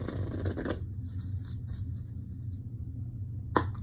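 Tarot cards shuffled by hand, a dense papery riffle for the first moment, then a quieter lull and one sharp card snap near the end, with no voices.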